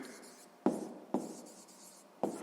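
Pen strokes tap and scratch across paper as an answer to a math exercise is written out, three sharp contacts with faint rubbing between them, close and quiet with no speech.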